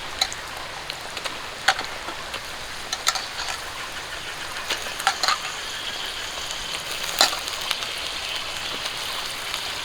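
Chicken pieces sizzle in hot oil for a Bengali chicken kasha gravy on a rainy day, a steady crackling hiss with scattered sharp pops, heard alone.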